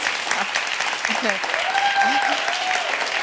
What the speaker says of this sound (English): We're applauding you for what you do.